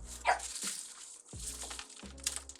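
A dog barks in a home while a wreath is being made nearby, several short barks and yips spread across the moment, fairly close but not loud.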